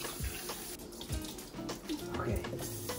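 Tap water runs steadily into a bowl as rice is washed for the third time while preparing Filipino food, with intermittent clinks and splashes of handling at close range.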